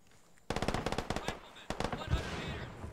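Automatic gunfire in the Vietnam-era video game Arma 3 S.O.G. Prairie Fire: a sudden close burst of rapid shots, a short pause, then another volley fading into echoing reports.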